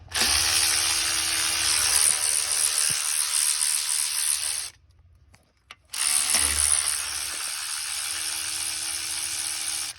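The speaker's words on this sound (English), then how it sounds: "right now I'm just moving the bolts for the intake" Power tool with a ratcheting mechanical whir removing intake manifold bolts on a 2017 Ford Explorer 3.7, running loud and close, cutting out for about a second midway, then resuming steadily.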